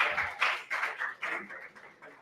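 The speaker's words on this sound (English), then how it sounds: "A round of applause for him" Applause from an audience at a Google I/O Extended tech meetup in Accra, a steady, dense wash of clapping with rhythmic swells throughout.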